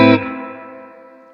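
Electric guitar played through an amp with its front end boosted by a drive pedal: a single strummed chord with a bright, slightly gritty attack that rings out and slowly decays, alone and close.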